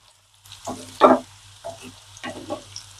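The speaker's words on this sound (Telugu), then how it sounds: "చూడండి ఇగో సౌండ్ ఎలా వస్తుందో చక్కగా వేగిందండి" Raw banana pieces fry in a pan with onions, producing short, crackling sizzle bursts as the food is stirred, several distinct surges with quiet gaps between them and no talking.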